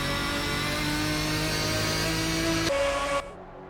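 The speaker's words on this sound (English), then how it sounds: "You want to hear the roar of the race cars." GT1 race car engines roar at Spa-Francorchamps in a sim racing game, a loud continuous drone with steady revving and harmonic whine that drops sharply near the end as the sound cuts down.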